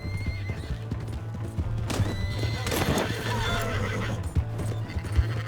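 A horse in the Red Dead Redemption 2 video game whinnies loudly and then clip-clops in a rapid galloping rhythm, close and prominent, with faint voices in the background.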